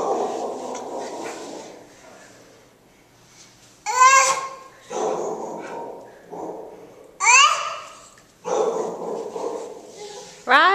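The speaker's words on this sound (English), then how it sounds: "Some dog is barking." A dog barks in several sharp, separate outbursts, fairly close and loud, between stretches of people chattering.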